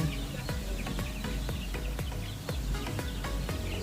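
Native chickens clucking at feeding time on a farm, a busy flock giving repeated short clucks in a fairly regular rhythm, close and moderately loud over a steady background.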